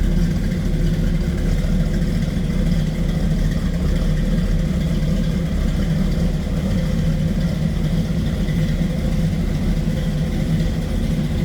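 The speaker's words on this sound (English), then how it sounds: "Slip around to the back so you can hear it run." The engine of a 1937 Ford street rod convertible runs at a steady idle with a deep, loud, continuous rumble heard from close by, with no voices.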